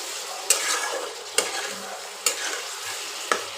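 Fig curry cooked down in a kadai, a close, steady frying hiss with four sharp spatula strikes spaced roughly a second apart, without any voices.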